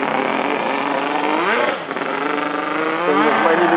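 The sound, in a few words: dirt bike engine revving with full exhaust system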